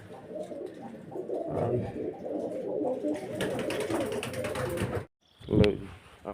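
Pigeons coo in a series of soft, throaty calls at a home loft, close by and fairly steady for several seconds, followed by a short pause and then one more louder coo.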